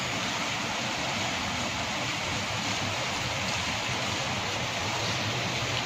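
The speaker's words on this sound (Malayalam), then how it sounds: "മഴ ഇങ്ങനെ തിമിർത്ത് പെയ്തുകൊണ്ടേയിരിക്കുക, കാറ്റതുപോലെ തന്നെ ശക്തമായിട്ടുണ്ട്." Heavy rain pours steadily in Gujarat, driven by strong wind, forming a dense, unbroken roar of close-up rainfall and gusts with no voices.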